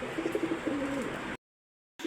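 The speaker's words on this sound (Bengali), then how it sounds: "এক পেয়ার হচ্ছে গররা কবুতর, মার্কেট কাঁপানো কবুতর" A Gorra pigeon coos in low, rolling murmurs close by, then the sound cuts to silence before a brief return.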